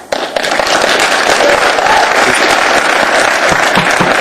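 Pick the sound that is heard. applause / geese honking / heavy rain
applause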